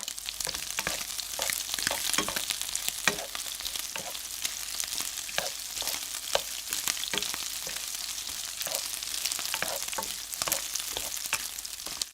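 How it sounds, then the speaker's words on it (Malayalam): Chopped garlic frying in hot oil in a pan for restaurant-style chilli chicken, giving a steady, dense sizzle with occasional scraping stirs, close and continuous, with no talking. "അപ്പോൾ വെളുത്തുള്ളി നമുക്ക് നന്നായിട്ടൊന്ന് മൂപ്പിച്ചെടുക്കാം."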